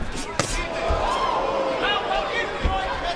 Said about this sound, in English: Mercado got his glove up to catch that left hook. Crowd gasped.